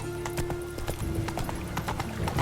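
Roach, the horse in The Witcher 3, gallops with quick, close clip-clop hoofbeats in an even rhythm, a brief snort or whinny mixed in and a short voice over the top.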